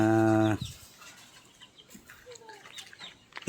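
A gamefowl rooster of the Oriental Sweater line crows loudly and close for about half a second, then stops abruptly, followed by quieter scattered clucks and chirps from hens and other birds nearby.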